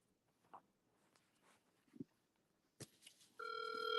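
A telephone rings on an outgoing call: a steady electronic ring tone begins near the end, after a few scattered knocks and footsteps in a quiet room.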